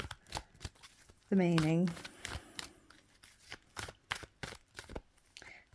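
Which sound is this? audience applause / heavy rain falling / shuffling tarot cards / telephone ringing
shuffling tarot cards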